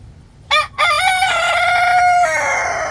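A rooster crows loudly and close by, one long drawn-out call after a short opening burst.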